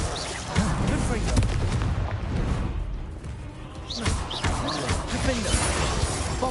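Hogwarts Legacy Confringo blasting spell explosions boom during combat, several heavy bursts landing amid other spell effects and game music, loud and close.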